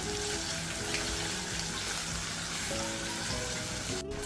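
Continuous sizzling and crackling from onion sautéing in a pan with a pinch of asafoetida and salt, steady and fairly close, with no talking.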